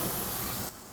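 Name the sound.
hamburgers sizzling on a hot grill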